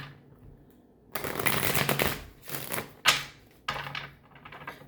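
A large deck of tarot cards being shuffled in several quick riffling bursts with short pauses, close and crisp, with no talking.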